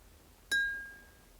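A spoon taps a glass full of water once, a single clear, close glassy ping that rings out and slowly fades over a quiet background.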